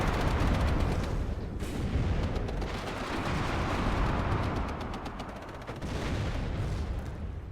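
Battlefield artillery in the WARNO video game, set in a UK 2075 mod: a dense, continuous barrage of booming impacts and crackling gunfire rolls on without pause, loud and close, with no talking.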